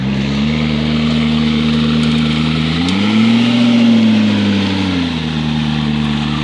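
A McLaren P1 hypercar, arriving for delivery and service, idles close by with a steady, rumbling engine note that swells briefly midway before settling back to a constant hum. No one speaks.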